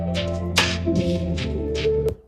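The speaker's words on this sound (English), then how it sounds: "lo-fi slow BPM, electro chill with organic samples" Lo-fi electro chill music at a slow tempo with organic samples, AI-generated by Meta AudioCraft: a steady sustained tonal bed with soft percussive hits, heard alone for about two seconds.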